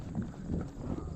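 Horse hooves clip-clopping at a walk in rhythmic, moderately close steps while out on a bird-hunting outing with a sharpie covey, steady and unbroken with no talk.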